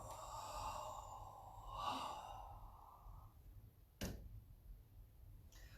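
A deep, slow inhale during a gentle warm-up movement, an audible breath swelling close by for a couple of seconds, followed by a brief tick and quiet.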